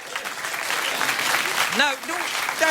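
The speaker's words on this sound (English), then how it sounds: "Don't give her a round of applause." Studio audience applause at a late-night talk show, a dense steady clatter of clapping that fills the clip, with a voice rising briefly over it near the end.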